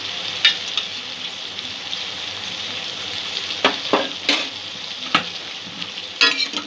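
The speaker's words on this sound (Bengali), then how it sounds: "মশলাগুলো ভালো করে কষিয়ে নেব।" Ground coriander, cumin and ginger paste frying in a pan for an aloo bhindi curry, a continuous close sizzle with occasional sharper stirring scrapes, no voices.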